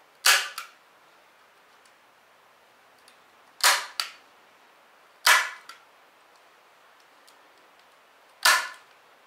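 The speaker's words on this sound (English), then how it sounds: "Fold these first and staple them down. And fold these down and staple them." A staple gun fires four sharp, loud snaps spaced a couple of seconds apart while stapling carpet onto wooden boat trailer bunks, each shot alone against a quiet background.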